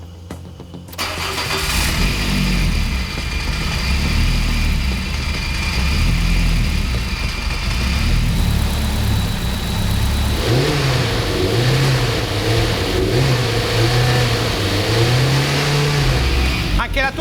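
A modified Fiat 128 three-door hatchback engine cranks and starts, then idles roughly and revs in repeated loud bursts close by, with brief voices in the background.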